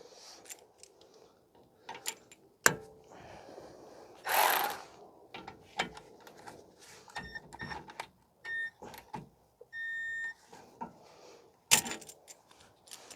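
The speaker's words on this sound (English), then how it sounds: "So I'm just going to tighten up the bolts a little bit" On a 2016 Ford F-150 with the 3.5 engine, a ratchet tightens the rear brake caliper bolts, giving scattered clicks, metallic ticks and short tool clatters at close range, with no talk.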